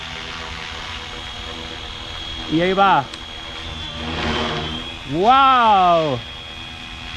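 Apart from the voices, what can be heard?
Flywing FW450L V3 RC helicopter taking off on first flight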